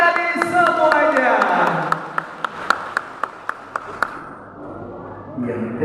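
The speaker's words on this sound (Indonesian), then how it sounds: "Boleh berikan tepuk tangan dari semuanya." Applause at the opening ceremony of Porsadin VIII, Ciamis regency, sharp claps and a crowd wash under loud music, fading out after about four seconds.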